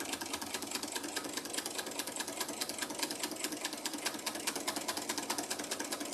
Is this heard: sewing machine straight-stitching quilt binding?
yes